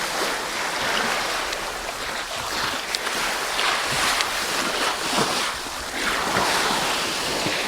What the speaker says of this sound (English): it was the sound of the ocean lapping against the side of this iceberg